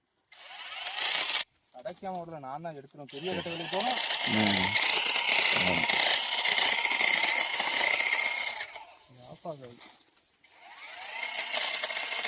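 A motorized pruning machine trims jasmine bushes, its buzzing, rattling motor running steadily for most of the stretch, dipping briefly as the blade bites, with speech in the background.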